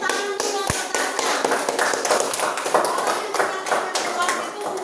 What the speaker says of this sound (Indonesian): tepuk tangan dulu buat Tasya